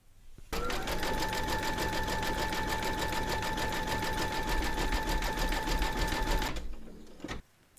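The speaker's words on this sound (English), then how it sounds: "We're now going to stitch round number 11, and that's going to do the satin stitching around the head and the ears." An embroidery machine runs a continuous satin stitch around a bunny's head and ears, a steady, even buzz of rapid needle strokes that starts abruptly, holds for about six seconds and then stops, close and alone.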